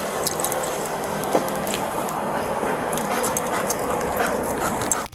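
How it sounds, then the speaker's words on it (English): A police K9 dog sniffs around a car searching for drugs, producing steady rapid snuffling and panting mixed into continuous broadband noise, with small scattered clicks throughout. "the officers brought in a K9 dog to sniff the vehicle"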